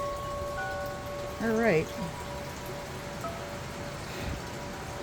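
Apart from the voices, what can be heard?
rain blowing in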